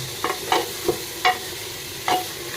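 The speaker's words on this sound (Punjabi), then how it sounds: "ਚੰਗੀ ਤਰ੍ਹਾਂ ਹਿਲਾ ਲੈਣਾ ਚੰਗੀ ਤਰ੍ਹਾਂ ਹਿਲਾਈ ਆਪਾਂ ਸਬਜ਼ੀ" Bottle gourd curry cooked with milk is stirred in a pan, with a handful of distinct spoon scrapes spaced irregularly over a soft, low sizzle.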